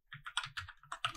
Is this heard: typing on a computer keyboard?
yes